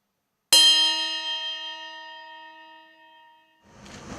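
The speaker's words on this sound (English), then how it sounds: "at 101, in remembrance, the bell will ring" A single bell strike rings out in remembrance at a Field of Flags memorial, a clear bright tone with long ringing overtones that fades over about three seconds before crowd sound begins.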